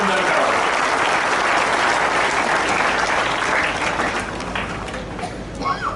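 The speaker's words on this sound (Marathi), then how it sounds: "आपल्या सर्वांना विनंती, टाळ्या वाजवून एकदा धैर्यशील मानेचं आपण अभिनंदन करावं." A large audience at a political rally claps in sustained, dense applause that fades slightly toward the end, with crowd noise underneath.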